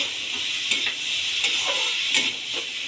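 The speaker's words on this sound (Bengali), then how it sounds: "আর দিয়ে দেব অল্প পরিমাণে স্বাদ মতো চিনি দিয়ে এবার হালকা ভেজে নেব" Spices, chopped green chilli and a little sugar sizzle lightly in a hot pan while being stirred, a steady close frying hiss with soft scraping strokes recurring every half second or so and no talk.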